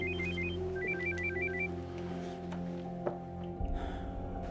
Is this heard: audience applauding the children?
no